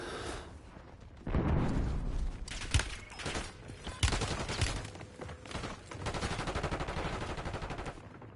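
Sustained video game gunfire with overlapping bursts and single loud shots rattling for several seconds, punctuated by sharper close reports, alongside game radio chatter.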